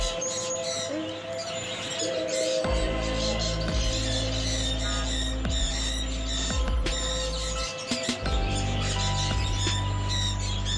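Pet birds at a Dhaka bird market chirp and squawk continuously in a busy mix, with a low steady hum and some faint background voices.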